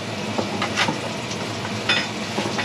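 Ingredients for Austrian leberkäse being mixed together in a bowl, with soft irregular scraping and stirring strokes recurring close by, no talking.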